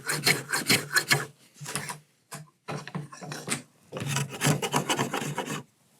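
Wood being shaved with a blade on a shaving pony, close up: repeated rough rasping strokes in bursts of about a second, with brief pauses between them.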